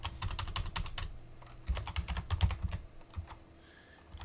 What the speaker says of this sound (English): Simply type your email